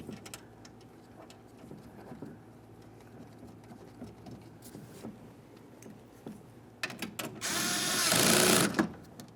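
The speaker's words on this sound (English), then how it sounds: "continue on with your 2 10mm headed mounting bolts. Start them in and snug them up." Two 10mm mounting bolts are snugged down on a rear power window regulator inside the door of a 2006-2012 Ford Fusion: fast light ratcheting ticks in short runs, then a louder rushing burst near the end.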